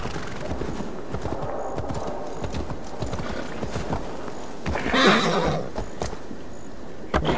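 A horse gallops in the Assassin's Creed Valhalla video game, steady hoof clip-clops drumming up close with a brief whinny-like surge midway, no talk over it.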